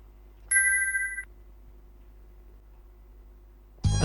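A single electronic ring tone sounds briefly, followed by near silence, then another burst begins at the end, like a phone ringing on an outgoing call.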